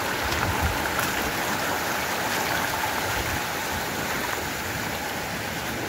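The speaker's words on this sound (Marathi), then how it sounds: "म्हणजे त्या धबधब्याच्या खाली." Steady broadband rush of a monsoon waterfall pouring into a river in the Sahyadri hills near Shivapur village, loud and continuous throughout with no voices.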